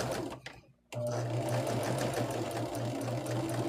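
A sewing machine chain stitches quilt blocks, running in a steady close whir after a brief pause near the start.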